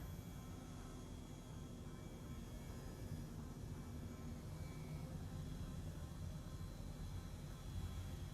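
Airbus H135 helicopter taxiing in a flight simulator, a faint, steady engine and rotor drone with broadband whine throughout, unchanging and without voices.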